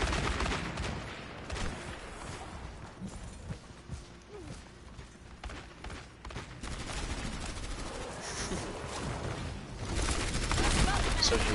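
Gunfire from a competitive video game match crackles in rapid bursts and scattered shots at moderate distance, running under a commentator's voice.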